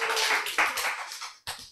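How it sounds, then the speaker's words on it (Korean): Brief burst of audience applause at a Korean health lecture on genes, dense clapping from a crowd that fades, then a short second flurry of claps near the end; no talking over it. "박수 한 번."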